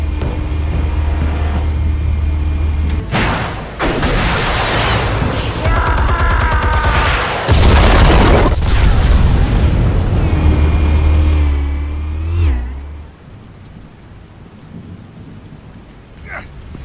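Explosives detonating in Batman: The Telltale Series, with a heavy, rumbling roar of blasts and crackling debris that builds, holds loud for several seconds, then dies away into quiet.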